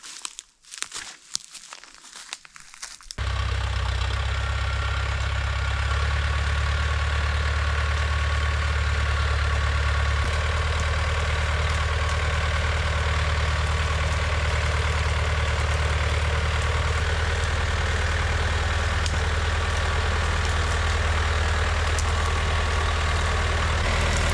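A Scout TE504-C tractor idles loud and close in a forest, with a steady low engine drone that carries on unchanged for about twenty seconds after a few seconds of rustling.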